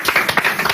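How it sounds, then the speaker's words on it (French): Audience applause at a televised poker tournament, a brief burst of close, dense clapping from a crowd. "on peut l'applaudir plus que ça"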